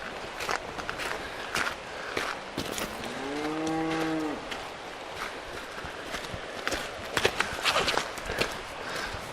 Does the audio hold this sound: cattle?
yes